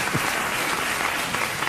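A late-night talk show studio audience gives a brief burst of steady applause, a dense wash of many hands clapping together, loud and uninterrupted.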